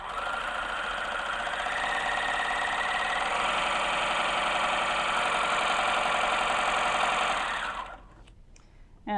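A 4-thread overlock machine stitching a seam, a fast, steady mechanical whir and rapid needle chatter held at constant speed for about eight seconds, then stopping abruptly with a few faint clicks.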